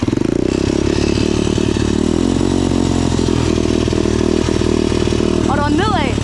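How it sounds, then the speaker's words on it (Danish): A motocross bike's engine runs steadily in first gear with a loud, close, rough drone and clattering, while talk is heard over it near the end. "du starter med at køre derned i første gear"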